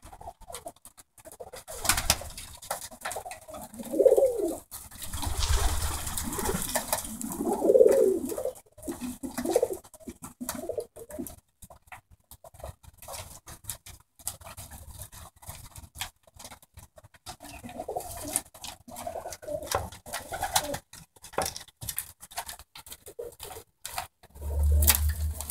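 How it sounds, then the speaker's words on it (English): Bronx tippler pigeons cooing as they feed inside a loft, repeated low throaty coos at intervals over scratchy shuffling and pecking patter, close by with no voices. "Just chilling with the birds, letting them eat, relax."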